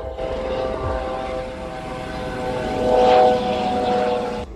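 A helicopter drones steadily with a thrumming rotor and engine tone, growing louder as it passes near over Montserrat, a volcanic island, with no voices.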